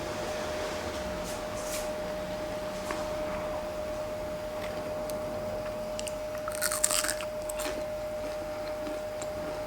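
Close-up crunchy chewing of pan-fried gnocchi, soft crackling bites in irregular bursts over a faint steady hum, with a louder crunch near the end.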